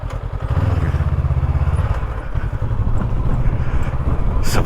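A Honda NX500 motorcycle's engine putters close by as it rolls in to park, a steady mid-pitched beat that eases off partway and then keeps running at a low idle.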